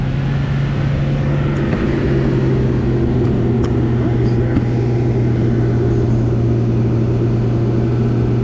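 A 2000 Jeep Grand Cherokee 4.0L engine with an oil pressure problem, held at a steady elevated idle around 2,500 RPM, producing a loud, continuous, even drone recorded up close with no talking.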